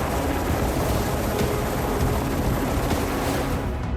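A British Royal Navy Sea King helicopter makes a loud, dense and unbroken roar of rotor and engine noise that holds steady throughout, with no voices.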